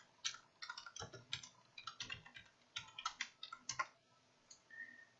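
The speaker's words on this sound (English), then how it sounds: "So I just typed in Yahoo Financial," Keystrokes on a computer keyboard entering a web search, a quiet, fairly steady run of clicks in short bursts with brief pauses, close by and alone.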